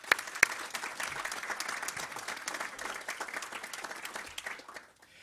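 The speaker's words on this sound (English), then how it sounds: "Could we just give them a round of applause" Applause from a conference audience at a Scottish seafood industry summit, a steady, fairly distant wash of many hands clapping that fades out toward the end.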